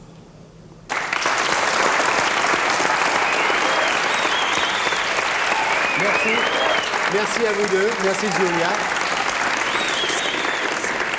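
Sustained studio audience applause on a French television talk show, loud and dense after a quiet first second, with voices speaking over the clapping.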